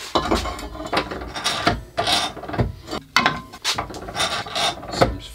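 Steel tap being hand-turned into holes in a welded metal belt grinder frame, giving a steady run of close scraping, rasping cuts with ratchet-like clicks in irregular bursts, with no talking.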